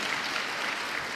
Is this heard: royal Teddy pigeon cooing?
no